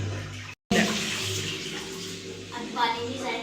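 A household tap runs for wudu ablution, water gushing in a steady splashing rush after a brief cutoff, with a voice faintly heard near the end.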